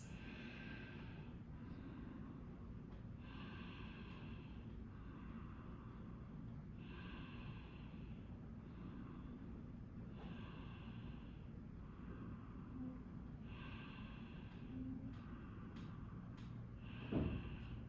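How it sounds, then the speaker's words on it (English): Slow, deep breathing during a hip-opening yoga flow, with about five long inhale-exhale cycles of airy breath sound, close and steady over a low room hum. "5 deep breaths."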